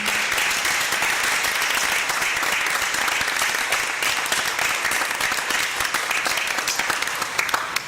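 Sustained, dense applause from the audience at a school board of education meeting for honor graduates, steady and loud throughout with no talking.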